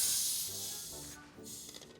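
A spray bottle releases a close hiss of mist that fades, followed by a shorter second burst after a brief pause.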